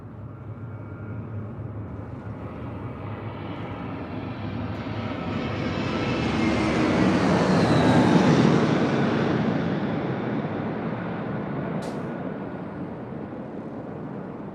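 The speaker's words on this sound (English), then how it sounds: "It's the JetBlue flight coming in from Fort Lauderdale," A JetBlue airliner arriving at LAX from Fort Lauderdale passes overhead, its jet roar swelling from a distant rumble to a loud peak and then fading, with no other sounds.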